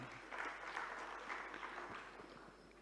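An audience at a Hindi talk claps, a soft, steady patter of many hands continuing for a few seconds, faint and somewhat distant, with no voices over it.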